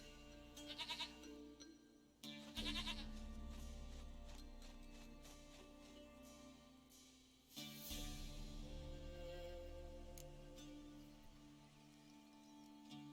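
A goat in The Witcher 3: Wild Hunt lets out two loud, close bleats, each followed by quieter game ambience and faint clip-clopping.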